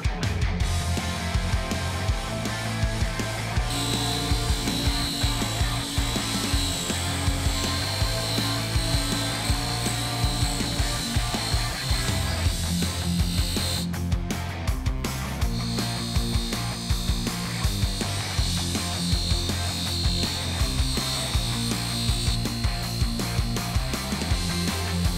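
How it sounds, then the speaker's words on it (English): A buffing machine polishing motorcycle shock absorber parts for an RM250 rebuild, a steady loud motor whine with rattling, rasping contact noise that shifts pitch as parts are pressed against the wheel, then briefly cuts out and resumes. "Always amazes me what a few minutes at the buffing machine will do."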